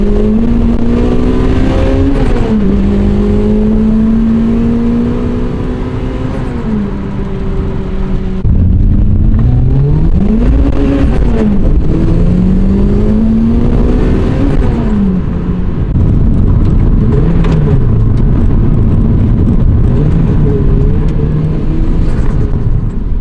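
A tuned 275 hp Toyota Celica GT-S turbo revs and accelerates close by, its engine note climbing through gears with several drops and surges, a loud throaty rumble running continuously.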